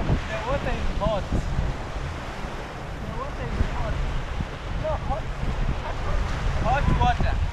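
Ocean surf rolls onto a beach at Mombasa, Kenya, a constant wash of waves with wind buffeting the microphone while people talk and call out over it.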